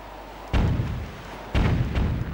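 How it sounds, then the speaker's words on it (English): Two heavy booming blasts about a second apart in The Legend of Zelda: The Wind Waker, bombs hitting cannons, each with deep rumbling decay and crackling debris. "Three episodes of me bombing the shit out of cannons."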